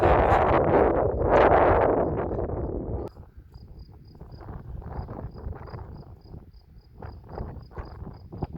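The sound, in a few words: strong wind blowing on a battlefield site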